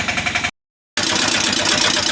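A tractor engine runs close by in a steady, pulsing idle. It cuts out for a moment, then returns just as loud.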